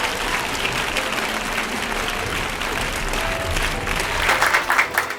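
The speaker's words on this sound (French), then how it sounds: "sous vos acclamations s'il vous plaît" Wedding guests at a combined customary and civil ceremony applaud the chosen witness, a dense, loud wash of clapping that swells a little more toward the end.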